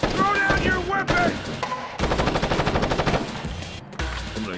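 Enemy gunfire in Splinter Cell Chaos Theory, loud rapid machine-gun bursts with short gaps between volleys, close and sustained, with voices shouting in between.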